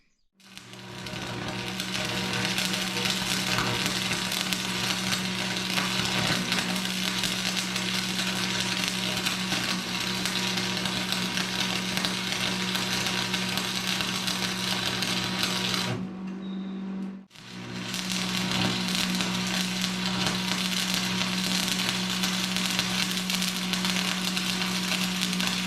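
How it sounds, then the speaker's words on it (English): Continuous welding on old trailer spring hangers, a steady crackling sizzle running for about sixteen seconds, briefly stopping, then resuming, close and fairly loud with no talking. "So I think I'm ready to go ahead and weld this thing back together."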